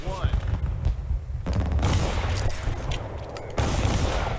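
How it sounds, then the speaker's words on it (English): Flintlock-style pistol shots in a Dishonored duel, two sharp broadband cracks roughly two seconds apart, each followed by a dense roar of game ambience, with a voice talking in between. "He didn't kill me with his first shot"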